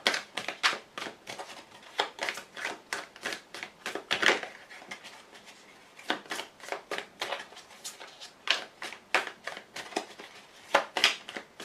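Oracle cards shuffled by hand ahead of a draw, a steady run of crisp, close papery riffles and slaps repeating quickly for the whole stretch with no talk.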